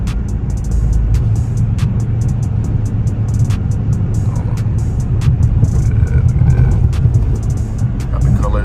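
A Dodge Charger drives with a steady low engine and road rumble heard from inside the cabin, with sharp clicks through it and someone talking over the sound.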